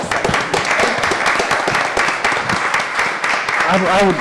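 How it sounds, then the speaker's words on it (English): A crowd breaks into applause, dense clapping filling the room while voices talk over it. "Let's give him a round of applause."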